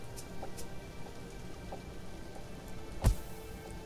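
Rain in a survival video game falls as a steady, soft wash of patter with scattered drop taps and one sharper knock, with no voices.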